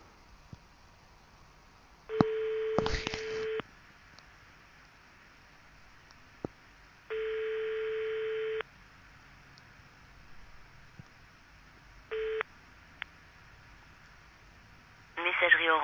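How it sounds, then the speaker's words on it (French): Ringback tone on an outgoing telephone call: a few separate long, steady beeps, each about a second and a half, with quiet gaps between them, before a recorded voicemail voice begins at the end. "Ah, là ça sonne."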